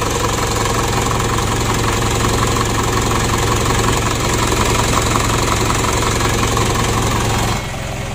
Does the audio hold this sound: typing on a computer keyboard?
no